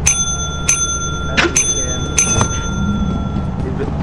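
A video game bell rings in sharp, bright strikes, several dings over a few seconds, clear and near above a steady low background rumble.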